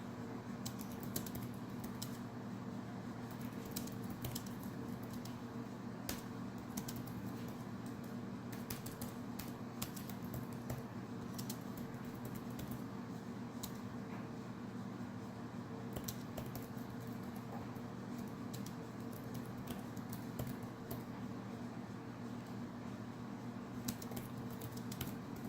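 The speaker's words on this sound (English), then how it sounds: "I'm typing on the keyboard here" Keys clatter on the detachable keyboard of a Huawei Matebook E Signature Edition 12-inch laptop, a quiet, steady stream of soft clicks and taps at an irregular typing rhythm over a low hum, with no voices.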